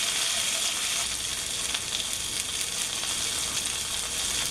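Keto chicken piccata fries in a pan, oil hissing and spattering in a steady, bright sizzle with small pops throughout, close and even, with no talk.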